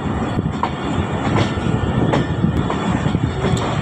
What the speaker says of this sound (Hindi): प्लेटफार्म नंबर 2 जहाँ से थल एक्सप्रेस चलती है